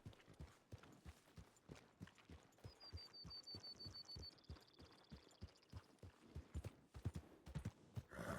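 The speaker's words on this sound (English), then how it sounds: "loads of horses somewhere?" Many horses' hooves clip-clopping in a steady, dense rhythm of hollow thuds, fairly close and continuous, with a faint high electronic chirp sliding in partway through.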